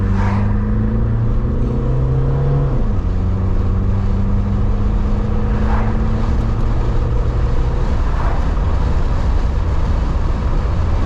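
An old Dodge Omni long abandoned, back on the highway at speed, a loud steady engine drone with a shifting pitch and rushing road noise throughout, no talk.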